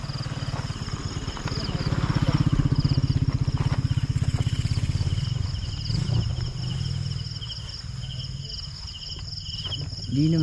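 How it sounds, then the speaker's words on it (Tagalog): A motorcycle passes by at night on a rural road, its low engine drone swelling and fading under loud, continuous cricket chirping. "Ayan, may dumadaan. Motor."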